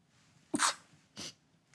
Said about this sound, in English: The sneeze is coming.